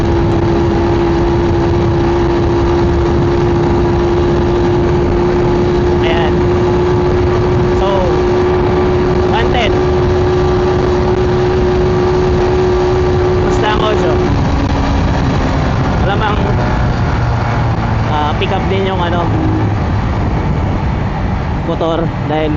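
A motorcycle engine drones steadily at over 100 km/h, close up, with heavy rushing wind noise and occasional shifts in engine pitch.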